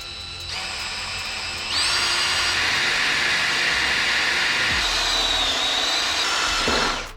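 A power drill fitted with Milwaukee drill bits boring through a bolt on a Subaru Impreza 2.5RS control arm: a loud, steady high whine that steps up in pitch, grinds on for several seconds, then winds down at the end.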